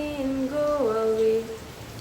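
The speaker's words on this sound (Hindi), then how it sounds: "ये लोग बारिश के जब तक मौसम का लुत्फ उठाते हैं" Steady rain falls as a soft broadband hiss during monsoon weather, with a clear tonal, voice-like wavering sound rising and falling over it for about two seconds.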